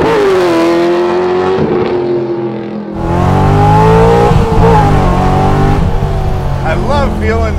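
Widebody LSX-swapped C2 Corvette accelerating hard, the loud close engine note rising in pitch, dropping briefly through a gear shift around the middle, then climbing again strongly, with voices talking over it.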